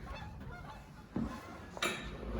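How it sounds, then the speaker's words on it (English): Geese honk in the background of a backyard, a couple of distinct calls rising over steady ambient noise, moderately loud but somewhat distant, with no talking. "And some geese in the background."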